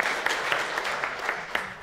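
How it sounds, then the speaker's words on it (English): A conference audience at a cybersecurity panel on malware analysis claps for a speaker, a brief, fairly soft burst of scattered hand claps in a large room. "One more round of applause for Philippe."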